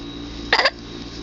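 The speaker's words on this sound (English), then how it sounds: "You got the hiccups?" A young child hiccups once, a short sharp burst standing out from a quiet room with a steady low hum in the background.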